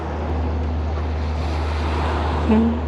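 Sea surf at Fontanka rolls in as a steady broadband wash with low wind rumble, and a brief higher tone rises near the end.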